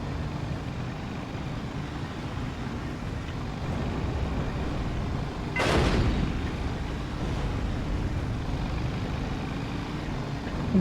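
A single booming cannon shot from an IS-2 1944 model tank in Steel Division 2 cracks out over a low rumbling battlefield bed, with a fainter echo trailing after it.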